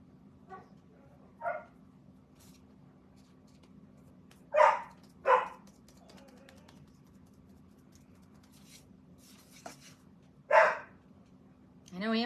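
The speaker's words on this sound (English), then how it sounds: "Dog's not happy." A dog barks a few times at a distance, scattered single and paired barks over a steady low hum, with a person talking quietly nearby.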